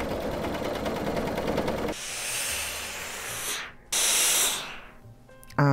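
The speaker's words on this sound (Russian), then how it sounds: "Собираем этот шов на верлоке." A BERNINA overlock serger stitches a T-shirt seam with a fast, whirring hiss in short runs, stopping and restarting a couple of times, close and fairly loud.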